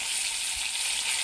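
Onions fry in a pan on a gas stove with a steady, close, dense sizzle that stays loud and even throughout the brief moment, with no voices.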